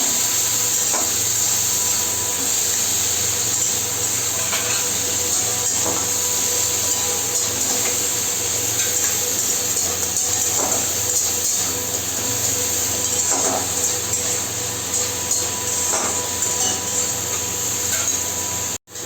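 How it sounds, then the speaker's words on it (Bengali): Tomatoes fry lightly in a pan for a Bengali macher jhal fish curry, a loud continuous hiss of hot oil with scattered sharp crackles and pops, heard up close with no one talking. "টমেটোটাও হালকা ভাজা হবে।"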